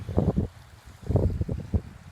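Wind blows on the Mekong River on a cool, rainy day, gusting straight into the microphone as low, rumbling buffets in two main surges, close and loud.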